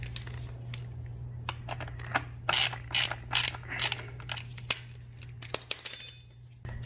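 Close ratchet clicks in quick bursts as 10mm bolts are loosened from a Suzuki GSX-S1000 motorcycle coolant reservoir, with a steady low hum underneath and a brief metallic jingle near the end.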